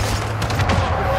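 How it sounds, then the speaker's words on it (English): Gunfire in a military video game, a cluster of rapid sharp shots crackling over a steady low background hum at moderate volume. "I can hear shooting."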